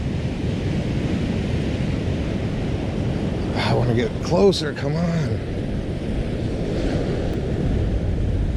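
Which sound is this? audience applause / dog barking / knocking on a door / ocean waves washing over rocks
ocean waves washing over rocks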